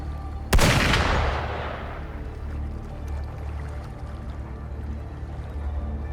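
A single sharp, loud gunshot in the video game Wuthering Waves cracks out near the start, followed by a long rumbling decay over a steady low background drone.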